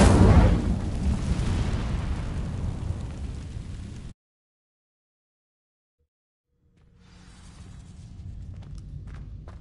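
A fiery spell in a video game bursts against dry vines: a loud roaring whoosh that fades over four seconds, then a brief silence before a quieter rumbling ambience returns.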